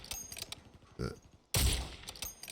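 Sniper rifle shots ring out in a first-person shooter, a sharp crack near one second and a louder, longer burst at about one and a half seconds, amid busy game effects and faint background clatter.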